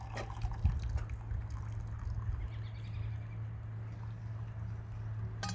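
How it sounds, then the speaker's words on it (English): Cold water pouring into a 1 gallon pitcher at an off-grid campsite, a soft continuous trickle and splash under a steady low hum, with brief knocks at the start and end. "So have this filled with cold water right about there. Get it poured in there."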